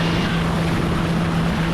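A Piper M600 turboprop engine roars steadily during the takeoff roll, a loud, dense drone with a constant propeller hum heard from inside the cockpit.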